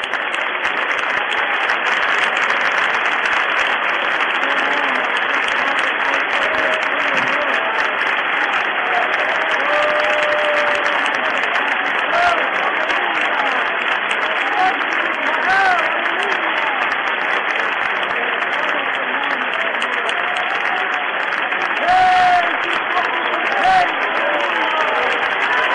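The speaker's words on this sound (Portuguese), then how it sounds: "um lindo e demorado aplauso do teu povo" A church congregation gives a long, sustained round of applause, dense and even in loudness for the whole stretch, with a few scattered voices mixed in.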